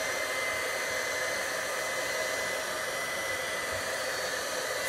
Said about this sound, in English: my heat gun's going to be a little noisy as I plug it in, because that's what heat guns do, right? They're noisy.